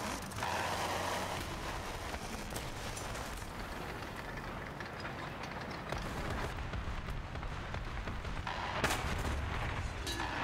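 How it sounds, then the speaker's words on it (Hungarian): Tank cannon fire in the War Thunder combat game, with heavy booming blasts amid rattling mechanical clanks and dense, continuous battle noise. "Az egy gyönyörű kritikál lövés volt."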